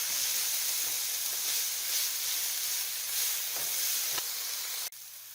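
Onions sizzling in a hot pan after salt and black pepper go in, a steady loud frying hiss with faint stirring scrapes before it cuts off abruptly near the end.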